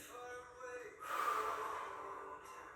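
A single audible inhale during a beginner Pilates mat breathing exercise, a soft breathy draw of air rising partway through, close to the microphone in a quiet room.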